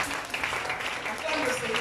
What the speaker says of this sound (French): Est-ce que tu peux offrir à l'Éternel une acclamation ce matin?